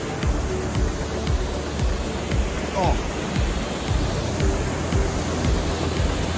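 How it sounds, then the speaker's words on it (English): Steady roar of Sensation Gorge Falls, a waterfall in a gorge, heard from a nearby slope as a dense, unbroken rush of water. A brief voice cuts in once. "over there to my left is the waterfall"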